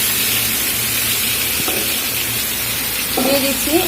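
Pumpkin pieces fry in a pan with a steady, continuous sizzle and hiss, joined by a few faint stirring knocks near the middle and end.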